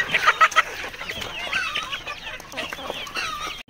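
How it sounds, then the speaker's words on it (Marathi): Desi village chickens cluck and squawk on a rural poultry farm, with several birds calling near and loud at the start, then a steady busy flock chatter continuing throughout. "इथे खूप सुंदर अशा कोंबड्या दिसत आहेत आपल्या"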